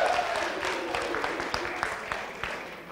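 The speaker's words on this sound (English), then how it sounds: "Come on, everybody clap for Lucas." Audience at a college game-show event clapping for a contestant named Lucas: a steady, moderately loud round of applause with scattered sharper claps, continuing throughout.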